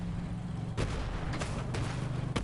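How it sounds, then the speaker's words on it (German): Several sharp booming vehicle explosions in Borderlands 3 cut through a steady low rumble, spaced irregularly across a couple of seconds. "Jetzt das noch schnell explodieren."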